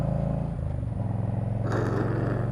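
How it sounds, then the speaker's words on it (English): A motorcycle's floorboard scrapes the ground while riding. A low engine drone runs throughout, and a harsh grinding scrape cuts in over it partway through. "I'm not scraping my muffler, I'm scraping my floorboard."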